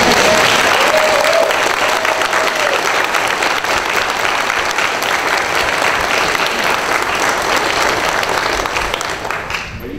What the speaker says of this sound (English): let me give my loving wife a round of applause